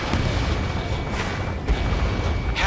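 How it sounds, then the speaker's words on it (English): A missile launched during a jet combat mission in the video game Ace Combat 7, heard as a dense, loud roaring rush that fills the whole moment, with a brief sharper burst near the end. "Missile away."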